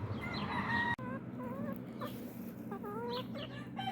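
A backyard hen clucks in short, close, rising calls with a few separate bursts, over quiet outdoor background noise and a brief sharp knock near the start.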